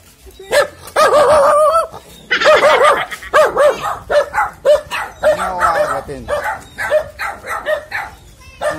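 Several dogs barking outdoors on a street, loud close yips and bow-wows in quick bursts, some whimpering between them, with someone talking over the barking.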